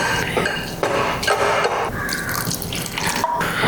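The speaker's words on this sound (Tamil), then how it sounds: "கொஞ்சம் கொஞ்சமாக தண்ணி விட்டுக்கலாம்" Water runs steadily from a tap or is poured in a kitchen while making oats dosa batter, a continuous splashing stream with light clinks of a vessel.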